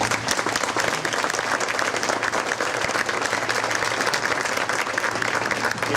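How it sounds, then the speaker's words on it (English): Sustained audience applause at a Juneteenth chamber of commerce program, dense steady clapping from many hands filling the room for several seconds at a moderate level. "So a round of applause."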